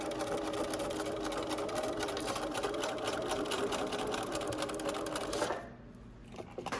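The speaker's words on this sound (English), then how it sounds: "when you're sewing around the edges, you sew 3 seams" A sewing machine stitching a homemade fabric face mask runs in a steady, fast mechanical whir with a rapid needle clatter, close and continuous, then stops near the end, leaving quiet room tone and a few small clicks.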